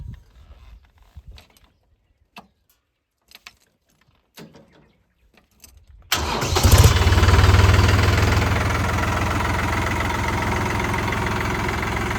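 A quiet stretch of faint, scattered sounds, then a loud tractor engine starts up and runs steadily at a constant idle, close by, for the rest of the clip.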